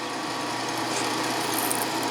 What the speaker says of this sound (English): this is about a 5/16 solid carbide drill